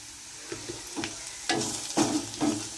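A spoon stirs fresh cashew kernels with Malvani masala and turmeric in a hot pan, giving about five sharp scraping strokes over a faint, steady sizzle of oil.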